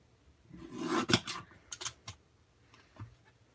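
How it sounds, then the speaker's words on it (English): Scissors snip through the edges of a paper Easter card: a short cluster of close, crisp cuts followed by a few sparser snips and a faint rustle, with no talk. "And then I'm going to just trim off the ends."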